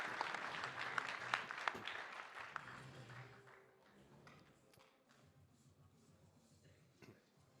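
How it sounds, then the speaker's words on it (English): A crowd applauds at a heavyweight fight press conference, a faint, distant wash of clapping with a few sharper claps that fades to quieter room noise. "how about a round of applause for these 4 heavyweights, everyone?"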